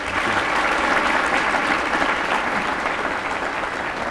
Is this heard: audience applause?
yes